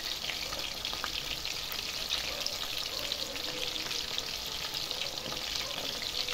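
Chicken pieces frying in a pan over a high flame, a continuous bright sizzle and crackle at moderate level throughout, with no talking.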